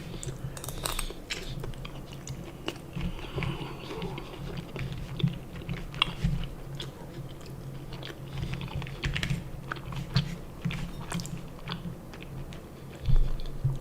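Someone chews hard, stale sushi rice, producing repeated crunchy, gritty bites close up, irregular in rhythm and fairly loud, with no talking.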